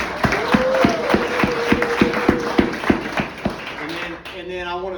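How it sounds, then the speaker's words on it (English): Guests at a Franklinton meet and greet clap for the Sugar Shack catering staff, a few scattered claps over a murmur of voices and a steady tone, ending in chatter. "If we could give them a round of applause."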